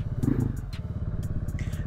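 A 2010 KTM Duke 690 motorcycle engine revs briefly up close, with a throaty, pulsing single-cylinder rumble answering the throttle almost instantly.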